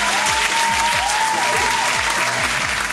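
Loud, dense audience clapping during a Dussehra comedy episode, continuous and close, with a faint whistle-like tone and low rhythmic thumps running underneath.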